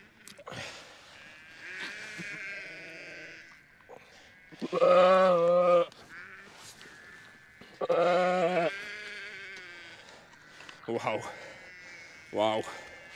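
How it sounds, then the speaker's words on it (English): A large sheep bleats loudly several times at lambing, close by, in separate drawn-out calls with quieter rustling and movement between them. "What a size of sheep this is."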